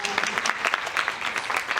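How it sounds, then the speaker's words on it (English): A keynote audience at a summit applauds in a dense, steady wash of clapping. The sound is short and close, with a voice faintly mixed in. "Can we give Dove a big round of applause?"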